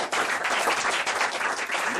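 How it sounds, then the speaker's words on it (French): An audience at a Catholic gathering applauds an evangelist, with brisk, dense clapping and a few cheers filling the whole moment at close range. "Sous les acclamations du public, je vous en prie"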